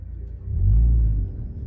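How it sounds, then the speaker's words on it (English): A Toyota Tacoma with a Runnin4Tacos R4T high-clearance exhaust gives off a deep, low rumble that swells briefly in the middle and then settles back to a steady idle, with no voices. "First impressions of the R4T high clearance exhaust."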